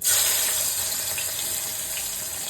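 Onions fry in oil left over from frying eggs for an egg biryani, giving a steady, dense sizzle with a louder burst at the start, then an even crackle, close by and without speech.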